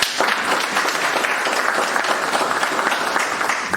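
Guests at a wedding ceremony applaud together in a loud, continuous round of clapping with fast, dense hand claps that hold steady throughout, with no clear speech on top.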